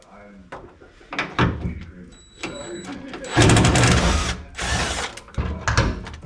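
Work on the trunk of an RX7 FC drift car, with a wrench and socket on bolts: clanks, metallic clicks and a burst of ratcheting or power-tool whirring, mixed with talk.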